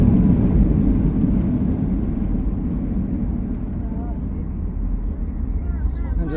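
Airplane landing at Winnipeg's Richardson Airport during wildfire smoke, a loud low rumbling roar that slowly fades with a faint whine near the end.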